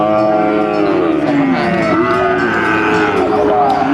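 Thai cattle at a busy livestock market moo loudly and close by, with long drawn-out calls rising and falling and overlapping one another over a noisy crowd background.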